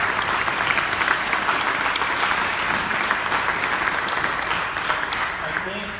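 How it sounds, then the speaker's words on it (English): An audience in an auditorium applauding a state legislator at a panel discussion, steady, even clapping from a sizable crowd lasting several seconds with faint voices underneath. "applause, he's here."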